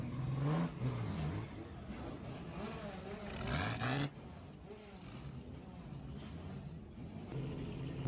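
A historic front-engined 1950s race car returns from the Monaco Historic Grand Prix, its engine revving and roaring nearby before the sound drops into steady background noise, with a person talking over it.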